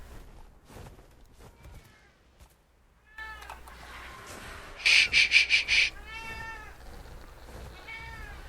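A pet cat meows several times, nearby and fairly loud, among quieter room sounds, while a person hushes it softly between calls.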